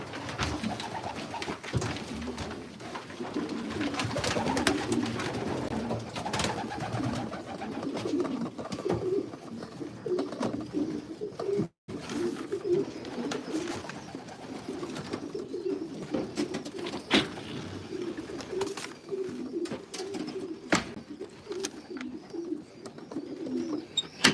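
Racing pigeons coo steadily in a loft, a soft continuous chorus of low burbling calls from several birds close by, with occasional rustles and clicks.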